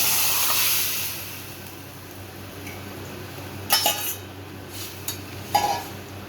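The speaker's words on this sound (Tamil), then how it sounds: "இப்போ வந்து வேக வைக்க மட்டன் போட்டுக்கலாம்." Mutton goes into a pan of sautéed onion and tomato. A soft hiss fades under a few sharp clinks and scrapes of a metal utensil on the pan, heard close with no voices.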